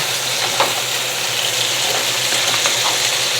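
Potatoes stirred in hot oil in a pan for sauteed steak and potatoes, a steady loud sizzle and frying hiss with soft scraping of the stir underneath, no talking.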